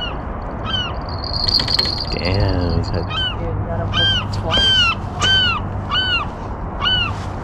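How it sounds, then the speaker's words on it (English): On a fishing pier, seagulls give loud, close, laughing calls, a run of repeated squawking cries over steady wind and surf noise. Someone speaks briefly among the calls. "seagulls are laughing"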